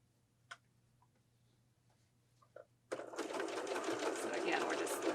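A sewing machine stitches a long piping cord strip for a pillow, starting abruptly after a quiet stretch with a few small clicks, then running as a steady, close, dense mechanical whir.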